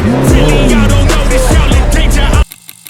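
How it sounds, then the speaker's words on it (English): A Ferrari sports car roars past at night on a Dubai Marina street, loud and close with a rising then falling engine note, before cutting abruptly to near silence. "Ferrari."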